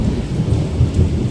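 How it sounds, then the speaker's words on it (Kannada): Rain falls on a rainy day in Coorg, Madikeri, with a low rumbling roll under the steady patter, loud and close throughout the short stretch. "ಮಳೆ ಬರ್ತಾ ಇದೆ ಜೋರಾಗಿ"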